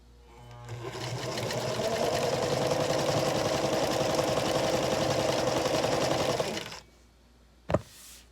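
A sewing machine runs steadily for about six seconds, stitching a seam on small quilt blocks held right sides together, then stops, followed by a single sharp click.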